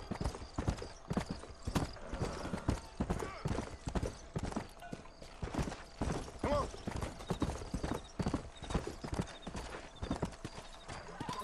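Horse hooves galloping in Red Dead Redemption, a fast continuous clip-clop rhythm close up and steady throughout, with occasional snorts and someone talking over it.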